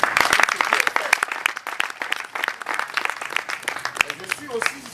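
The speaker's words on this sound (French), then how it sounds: "Je voudrais moi-même d'abord applaudir." A small audience applauds in a room at a music composition lecture, with uneven hand claps of moderate loudness that thin out toward the end.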